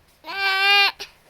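A voice imitates a goat bleat, one sustained, wavering bah lasting over half a second, close and fairly loud, followed by a short breathy tail.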